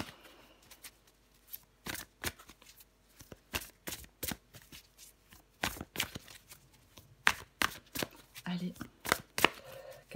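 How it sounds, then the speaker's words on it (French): Tarot cards are shuffled and drawn in a run of crisp, close riffling snaps and flicks, bunched in quick irregular bursts with short pauses between them, and no one speaks. "je prends encore une carte pour vous les Capricornes"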